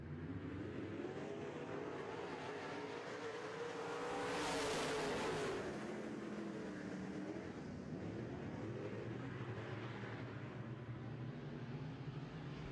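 Modified race cars roar around a track during a heat race, a steady loud engine drone with one car surging closer and louder midway before the pack noise settles back into a continuous rumble.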